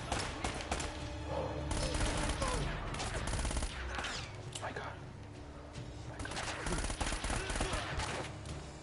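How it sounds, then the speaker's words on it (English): Gunfire from the video game Uncharted, dense bursts of shots and thuds under a loud, continuous game soundscape, with a player talking over it. "Who the fuck is shooting?"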